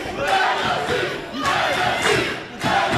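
Wrestling fans in an arena at a WWE ID match at the FIP Everything Burns 2025 event roar and shout continuously, a dense crowd din with bursts of louder yelling swelling every second or so.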